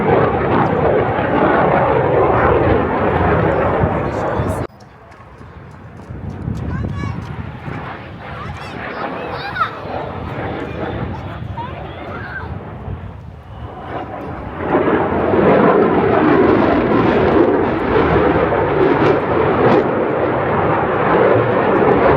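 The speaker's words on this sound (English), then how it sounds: "I'm pretty sure they're F-16." Fighter jets, identified as F-16s, pass over an outdoor air show in Gatineau, Quebec, a loud broadband engine roar that drops briefly then surges back louder, with crowd voices talking underneath throughout.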